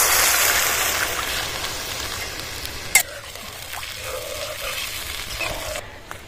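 Water poured into a pan of spiced cabbage curry masala: a loud hot sizzle and hiss that drops after a sharp knock, settling into a quieter bubbling crackle.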